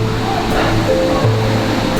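Palale Falls, one of the highest waterfalls in Albay, with water falling onto large rocks at reduced flow, making a steady, dense rushing wash close by with no breaks.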